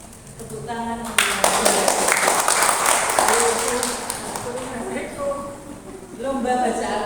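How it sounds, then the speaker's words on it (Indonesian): A church congregation at a Bible-reading contest prize-giving bursts into lively clapping that fills the hall for several seconds, with voices and musical tones running underneath. "Tepuk tangan."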